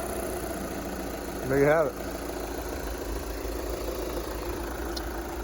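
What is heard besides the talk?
2013 VW Jetta TDI engine running after fuel filter change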